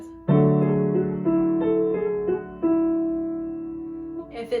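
Solo piano plays the right-hand part of a song: a sustained chord followed by a run of repeated soft chord strikes, close and clear, with no voice over it.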